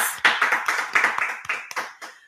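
Studio audience or group applause at the opening of a Portuguese-language public-speaking course episode, a dense burst of many hands clapping that rises quickly, stays steady and then thins out over about two seconds.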